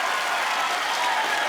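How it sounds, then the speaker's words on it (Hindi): A studio audience at a comedy talk show breaks into loud, dense applause, a continuous wall of clapping from many people close by with no voices. "जोरदार तालियां।"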